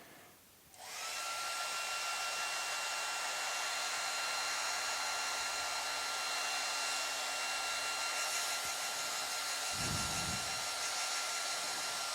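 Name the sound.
hair dryer blowing on acrylic paint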